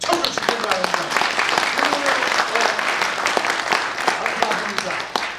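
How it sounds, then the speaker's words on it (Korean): Warm audience applause for an author at a book launch event, dense steady clapping from a crowd with sharp individual claps standing out, continuing at an even level without talk. "작가에게 뜨거운 박수 한번 좀 쳐주시기 바랍니다"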